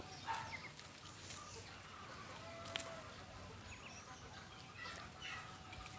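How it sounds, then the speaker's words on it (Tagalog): Three newly kept chickens clucking softly in short, scattered calls, faint and distant over quiet outdoor background noise. "Tatlong manok."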